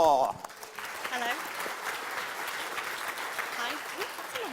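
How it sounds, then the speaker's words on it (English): A studio audience claps steadily and fairly loudly for several seconds after a game show contestant is introduced, the applause dense and sustained with a few voices mixed in. "That was a longer applause than I was expecting."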